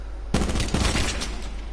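Gunfire in Call of Duty Black Ops 4 Blackout, a fast run of closely spaced shots starting abruptly and continuing as a dense, loud burst of automatic fire.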